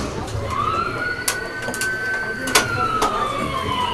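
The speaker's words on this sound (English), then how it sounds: "it was a siren. Sounds like a fire truck, actually." A fire truck siren wails in a long rising and falling sweep, moderately distant, with a few sharp knocks and clatters close by.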